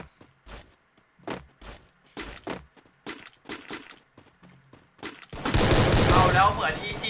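Gunfire in the video game Free Fire: scattered single shots and short bursts in a broken rhythm, then a dense sustained volley near the end, loud and close.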